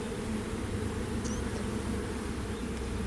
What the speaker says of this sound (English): I don't want to step on bees. Yeah, don't step on the bees.